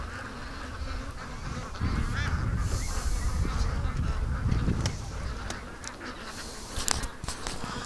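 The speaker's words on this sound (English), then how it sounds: "Ducks are freaking, and Doug just smelled something" Ducks and geese honk and quack, clustered and restless, mixed with wind rumble and a few sharp clicks, moderately distant.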